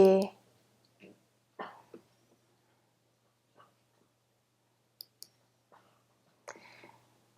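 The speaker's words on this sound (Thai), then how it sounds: "ให้คุณคลิกเมาส์ตามลงไปค่ะ" A computer mouse clicks a few times, sparse and close, among quiet gaps, with someone speaking softly in Thai between the clicks.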